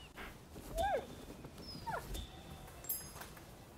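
A dog in Rise of the Ronin gives two short whimpering yips about a second apart, moderately close over quiet ambience.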